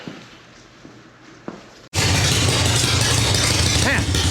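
A 1974 Harley Shovelhead FX motorcycle engine starts abruptly after a few quiet knocks, then runs loud and rough with a steady, dense rumble close by.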